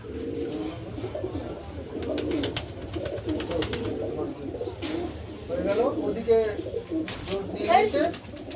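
Domestic pigeons coo repeatedly at close range, soft throaty burbling calls in a loose rhythm, while a person talks over them.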